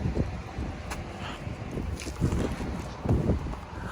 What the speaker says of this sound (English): It's nice and windy out here too.